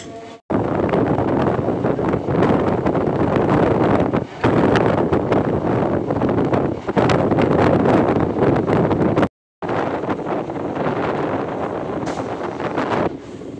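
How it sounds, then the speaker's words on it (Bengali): A moving passenger train carries a strong, continuous roar of wind and rushing air, loud and close, with a few brief dropouts. "লকডাউনের পর এই প্রথমবার ট্রেন জার্নি।"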